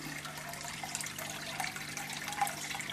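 Water pours steadily from the outlet of a homemade trickle filter on a goldfish aquarium, a continuous close splashing flow with no speech.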